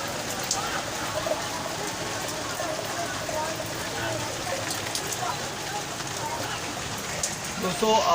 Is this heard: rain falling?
yes